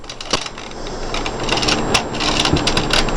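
A knitting machine carriage slides across the needle bed knitting rows, a close, continuous rattling swish dotted with sharp clicks and clacks.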